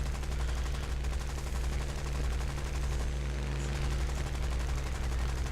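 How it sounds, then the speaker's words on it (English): Aircraft machine guns fire in the video game War Thunder during a tier 3 British arcade battle. The fire is a steady, rapid rattling, fairly faint, over a constant low engine drone with no pauses. "I run out of cannons. Just have machine guns."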